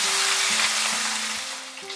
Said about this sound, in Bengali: তেলটা ভালো মতো গরম হলে আমি মাছটা দিয়ে দিলাম।